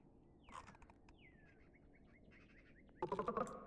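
A magpie calls in short chattering bursts mixed with whistled and chirping bird notes, fairly faint, ending in a louder rapid rattle near the close.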